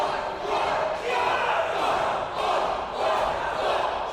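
A packed arena crowd at a VCW wrestling event roars and chants in swelling, rhythmic surges, loud and continuous, with no single voice standing out.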